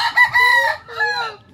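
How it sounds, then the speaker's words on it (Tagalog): A rooster crows loudly and close by, two long drawn-out calls one after the other, with a faint low rumble underneath. "Manok."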